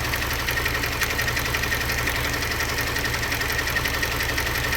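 A 2017 Kia Sorento 2.0 turbo engine idles roughly with a two-cylinder misfire and injector circuit fault, a close, loud, uneven pulsing chug with a shaky rhythmic knock throughout.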